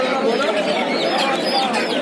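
Many pigeons coo and flutter close by in a dense, continuous murmur at a pigeon market in Bangaon, with soft calls overlapping throughout.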